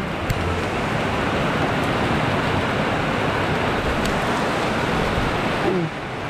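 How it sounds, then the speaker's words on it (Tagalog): Heavy rain of big drops during a storm pours down on a garden with tomato plants, a dense, continuous loud hiss close by. "Lalaki ng patak na ulan."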